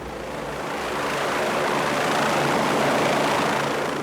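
An air ambulance helicopter comes down onto a cleared motorway, its rotor and engine roar building steadily into a loud, dense whooshing wash that swells and peaks near the end.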